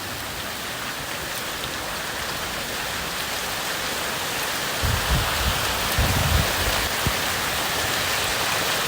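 Dense, steady patter of small ice pellets falling in a summertime hailstorm, a continuous hiss of impacts with a few heavier low thuds near the end, no voices.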